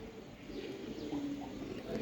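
Soft, low cooing from an Eagle-breed pigeon, a steady murmur running through the whole moment against faint background hiss.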